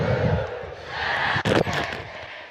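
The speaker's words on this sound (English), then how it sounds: "God, this crowd is screaming." A baseball crowd screams and roars at a Savannah Bananas versus Party Animals game in Fresno, a dense, loud wall of cheering with a brief sharp burst of louder yelling near the middle.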